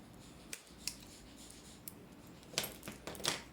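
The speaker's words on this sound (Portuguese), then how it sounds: "Pego uma tesourinha pequenininha, ó, uma tesourinha pequenininha, bem afiadinha." Small, sharp scissors snip through the fabric of a double-opening toiletry bag, giving a few faint, quiet crisp cuts spaced apart, with a cluster of snips near the end.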